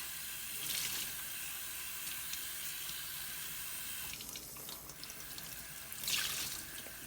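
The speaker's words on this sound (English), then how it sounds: "You could, of course, just fill up a sink of cold water." Cold water runs steadily from a tap into a sink for washing yarn, a continuous close hiss and splash that swells slightly near the start and again toward the end.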